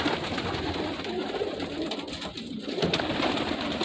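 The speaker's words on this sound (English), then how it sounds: "I'm sorry, Mama Pigeon." Pigeons coo softly and repeatedly over a steady, hissing background, with no talking.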